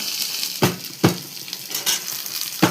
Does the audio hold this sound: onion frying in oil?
yes